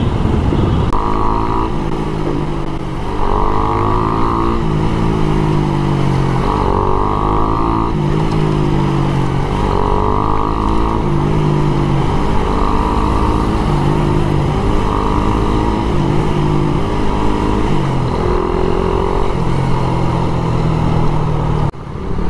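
Motorcycle riding along a road, a Yamaha Aerox 155 scooter heading to Bulacan, with a steady engine drone and repeated rising pitch steps as it accelerates and shifts, loud and close throughout with no talking.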